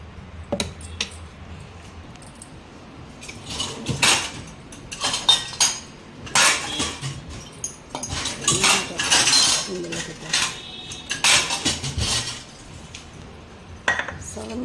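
A spoon clinks and scrapes against a bowl in irregular bursts as ground Andhra-style gongura chutney is scooped out and transferred, close and fairly loud.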